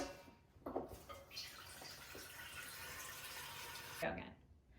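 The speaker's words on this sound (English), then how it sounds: "fill that up about 16 cups of water." Water runs from a kitchen faucet into a cooking pot as it fills, a steady splashing hiss between sharp clanks, with brief talk mixed in.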